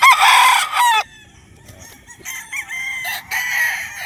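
A pure Gilmore gamefowl stag crows loudly and close by, one full crow followed by a second, broken crow after a short pause, with no talking.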